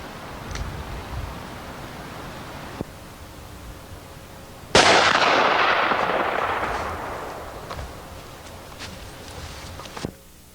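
A single loud gunshot cracks out close by and leaves a long echoing tail that fades over several seconds, with a few faint clicks before and after.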